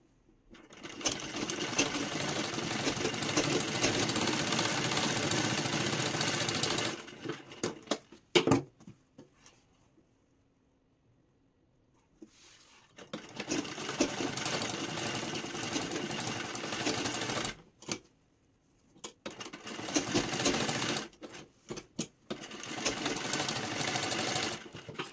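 Sewing machine stitching two joined parts of a Sabyasachi-style blouse, running in long steady bursts separated by pauses and short stops, close and loud with no talking.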